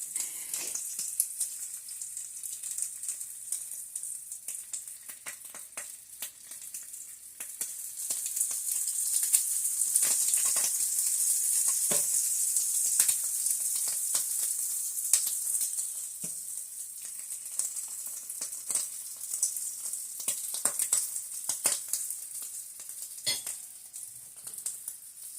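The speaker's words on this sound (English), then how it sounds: "cooking too fast and popping a little too much" Teriyaki-glazed hotdog and rice sizzling in a pan that is cooking too fast, a steady bright hiss scattered with frequent sharp pops and crackles, swelling in the middle and persisting throughout.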